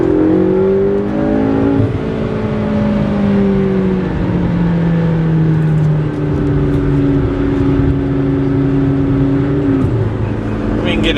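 A 2015 McLaren 650S Spyder engine revs hard under acceleration as the wheels slip, a loud, continuous near-field roar with rising and falling pitch sweeps and no talk over it.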